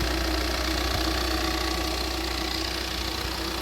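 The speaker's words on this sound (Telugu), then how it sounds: "ఇంజన్ సౌండ్ మాత్రం ఇట్లా ఉందండి" A 2019 Maruti Suzuki Ertiga ZDI+ diesel engine idles steadily, a constant low rumble with a faint knocking clatter, close and even throughout, with no talking.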